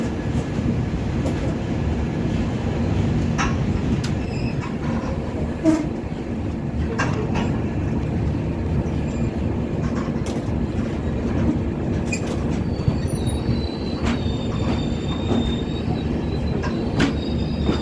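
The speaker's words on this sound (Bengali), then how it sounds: "1 নম্বর প্ল্যাটফর্ম থেকে এখন ট্রেন ছেড়ে দিচ্ছে রং বেরঙের নিউ কুচবিহার রেলওয়ে স্টেশন থেকে।" The 13182 Kaziranga Express pulling out of platform 1 at New Coochbehar station: a steady rolling rumble of rail cars with rhythmic clicks, occasional wheel squeals and a faint high tone, moderately loud throughout.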